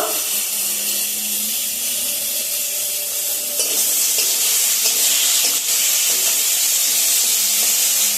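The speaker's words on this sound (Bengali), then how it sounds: "নরম হয়ে যাওয়া অবধি এটা নাড়াচাড়া করে নেব।" A mung dal mixture for a snack sizzles and hisses steadily in a pan while being stirred, a dense, even frying noise with occasional faint scrapes, fairly loud and close throughout.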